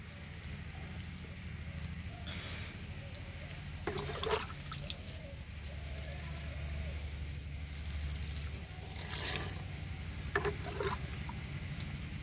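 Five liters of water mixed with yogurt, jaggery and native cow urine poured over potato seed in a few short splashing bursts, faint and fairly distant against a low steady background hum.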